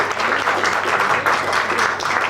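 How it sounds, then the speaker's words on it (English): Party guests at a 50th birthday celebration give a steady round of applause, dense continuous clapping from a roomful of people filling the space without a break. "let's give Peggy a nice round of applause"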